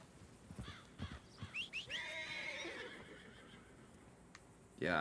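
A horse in a video game neighs in a rising and falling whinny, preceded by a few hoof clops. A louder burst of noise comes at the very end.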